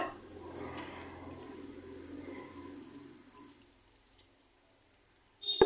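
Cassava pieces being put into water, with soft, faint sloshing and trickling that eases off, then a brief, louder splash right at the end.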